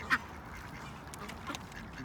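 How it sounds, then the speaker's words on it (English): A white goose near a duck-feeding spot gives two short, honking quacks, one early and one near the end, moderately close against a faint outdoor background with no talk. "Oh, a goose. That's a goose."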